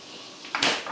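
A refrigerator door swings shut with a soft, muffled thump and a brief rattle near the end, fairly quiet and close, with no talking during the sound.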